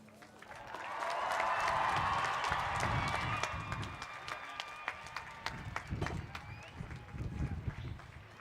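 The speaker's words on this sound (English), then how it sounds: "Let's give him one more round of applause." A large crowd at a high school graduation bursts into loud applause and cheering that swells, then gradually thins into scattered clapping with voices over it.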